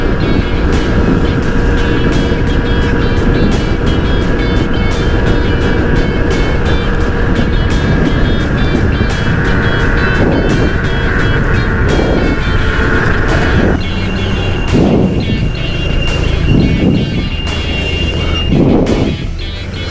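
An Emperor Drift electric scooter rides at half throttle, giving a steady motor whine and broadband road and wind rush that holds constant and loud throughout, easing slightly toward the end.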